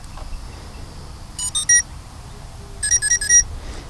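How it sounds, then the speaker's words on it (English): An Invertix 400 3D fixed-pitch multirotor gives its startup beeps as its battery is plugged in: two short sequences of clear electronic tones, close and distinct, with a quiet pause between them and no talking. "we want to hear the proper beeps as I showed you in the build video"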